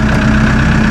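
A Massey Ferguson 2850E compact utility tractor's diesel engine idles just after starting, a loud, steady low rumble close by with no talk.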